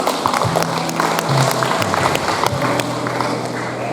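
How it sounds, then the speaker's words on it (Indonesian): Audience applause at a school farewell ceremony for graduating twelfth-grade students, a steady continuous wash of clapping lasting throughout, with a low hum and some crowd noise underneath. "Kita berikan aplaus untuk kita semua."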